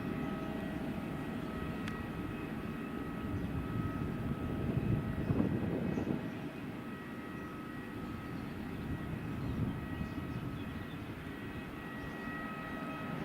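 A Wizz Air jet departing Madeira Airport makes a steady, distant broadband engine roar that swells slightly around the middle and then holds, with no talk over it.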